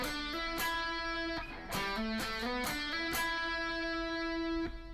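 A melodic electric guitar phrase from a guitar solo, of picked and hammered notes, quick pitch changes and short slides, ending on a sustained ringing note; no voices.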